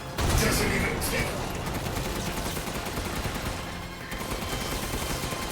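Rapid gunfire from the video game Resident Evil Village, sustained bursts of loud shots and mechanical clatter filling the whole stretch, dense and continuous with game ambience behind.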